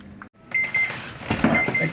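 A kitchen timer beeps while banana bread bakes, a few thin electronic beeps spaced out after a short clatter, with kitchen handling noise mixed in and no speech.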